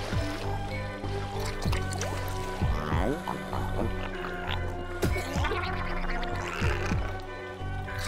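Gurgling, gulping water sounds from drinking in the game Bulb Boy, bubbling in bursts under someone talking excitedly.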